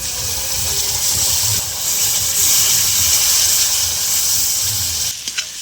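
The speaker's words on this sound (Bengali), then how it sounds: "মশলাটা ভালো করে কষে নেবো" Spice paste of red chilli powder fries hard in a pan for olive barb fish biryani, a loud, continuous hissing sizzle heard up close that briefly shifts near the end, with no talking.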